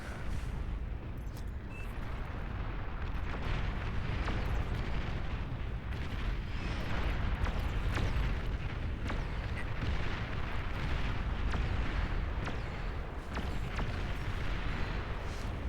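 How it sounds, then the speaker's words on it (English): Battleship artillery explosions from the strategy game Beyond All Reason, during an 8v8 match: a dense, continuous barrage of booming blasts and rumbling impacts with no pauses, loud throughout and with no voices over it. "he's getting hit by a battleship while he's doing it"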